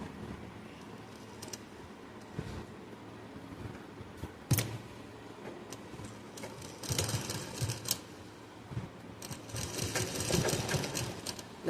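A sewing machine stitches a waistband in quiet, intermittent runs of rapid clicking and whirring, near and fairly faint, with small handling knocks between bursts and no talking.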